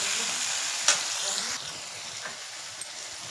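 Boiled chicken and onion frying in oil in a pan, a continuous soft sizzle with a few brief stirring clatters and splashes, close and without talk.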